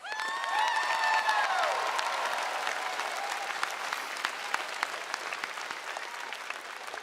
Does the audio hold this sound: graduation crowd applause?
yes